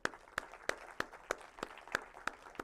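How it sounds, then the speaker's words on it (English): Sharp, evenly spaced claps at a finance conference, about eight in under three seconds, at a steady beat against quiet room noise, fairly faint and distant with no talking. "So please give a big round of applause for all of you who are in the GFC conference today."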